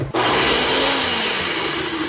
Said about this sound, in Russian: Вместо этой штуки миксер у нас есть блендер